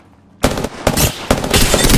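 Rapid automatic gunfire in the shooter game Apex Legends, three loud close bursts of fast shots separated by brief pauses, sharp and dense, with no talk.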